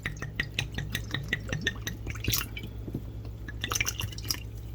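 Water added slowly to whole wheat biscuit dough, a run of close, irregular drips and liquid clinks over a low steady hum, no voices.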